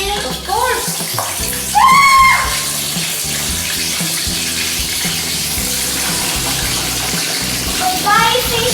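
Water gushes steadily from a kitchen tap while fish is being cooked, a continuous splashing rush under chatter from a woman and a child, with brief higher squeals from voices over it.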